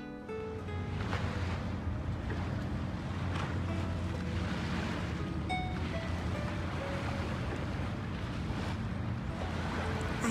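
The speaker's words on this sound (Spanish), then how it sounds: "Aquí puedes tomar el sol o escuchar el agua relajante." Water laps along the shore of a waterfront park in Tacoma, a steady, soft wash of gentle waves mixed with light wind noise and no talking.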